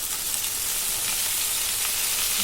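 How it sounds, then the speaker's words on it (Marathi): Loud, steady sizzle and frying hiss of bell peppers cooking over a low gas flame with a splash of water, continuous and close with no talking. "आता याच्यात थोडंसं मी कडेनाचं पाणी मारून घेते अगदी थोडंसं म्हणजे वाफ येण्यासाठी"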